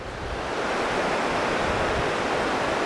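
Incoming tide on a beach with waves flooding in: a steady, loud wash of surf and wind noise with no break.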